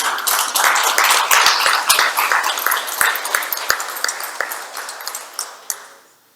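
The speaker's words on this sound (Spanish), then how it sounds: "Quiero que recibamos al doctor Henry García con un fuerte aplauso" An audience applauds to welcome a speaker at a conference, giving a dense burst of many clapping hands that thins into scattered claps and fades out over about six seconds.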